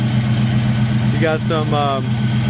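A 1969 Buick Skylark convertible's original engine idles steadily with a low, even rumble, while someone talks briefly over it.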